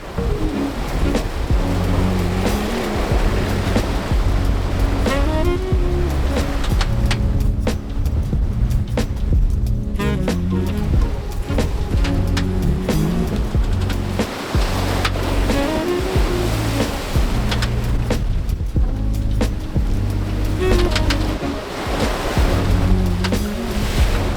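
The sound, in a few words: ocean waves around a sailing boat offshore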